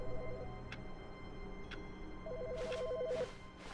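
A telephone rings inside The Stanley Parable video game: two short warbling electronic ring bursts, one at the start and a longer one later, fairly clear over quiet background with a few soft clicks.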